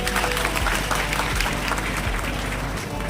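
A seminar audience gives a short, dense burst of applause, many people clapping together at close range for about three seconds without speech.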